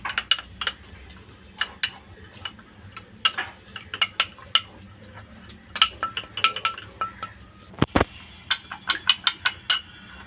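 Metal spoon clinking and scraping against a bowl while chilli, cumin and coriander powders are mixed for a coriander leaf pickle, a steady run of close, sharp taps and clinks with one louder knock near the end.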